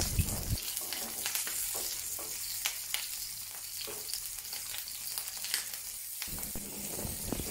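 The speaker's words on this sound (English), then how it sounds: "Place the tofu and stuff vegetables in the pan with the meat side down." Stuffed tofu (Yong Tao Foo) shallow-frying meat side down in a pan with a little oil, giving a steady close sizzle with crackling pops that runs for several seconds and then drops off, with no talk.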